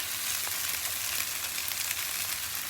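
Hash browns fry on a flat top grill in a dense, even sizzle that holds steady and fairly loud for the whole stretch, with no voices.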